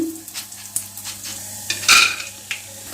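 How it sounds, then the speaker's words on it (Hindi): Macaroni frying in oil in a pan, a soft, steady sizzle with light scraping and clinks of a utensil stirring close by. "अब हम इनको फ्राई करेंगे जी"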